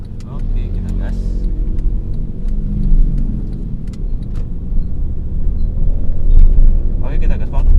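Honda Jazz accelerating hard in sport mode, with a loud, steady engine and road rumble from inside the cabin that swells slightly near the end, while occupants talk over it.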